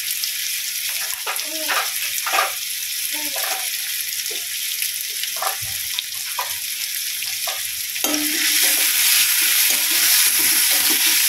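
Onion and dried red chillies fry in oil, sizzling steadily up close with bursts of stirring, and the crackle swells louder and brighter near the end.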